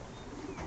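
Pigeons softly cooing inside a loft, a low continuous murmur of several birds at moderate distance for under a second, with no voices.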